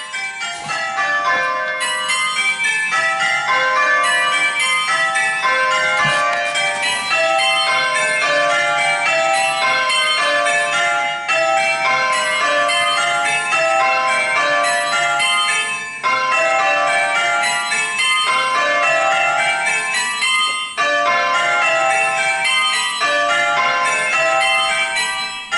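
Eight tower bells ring Plain Hunt in a continuous, evenly paced round of loud, overlapping metallic strikes that carry on for the whole passage with no voices.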